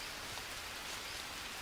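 Rain falls steadily in the survival video game Green Hell, a soft continuous hiss of drops on surfaces, even and moderately quiet, with no voices.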